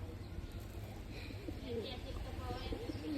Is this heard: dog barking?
no